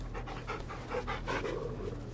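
Rhythmic, breathy panting from a dog being petted in the video game Final Fantasy 16, close and continuous over a low background hum.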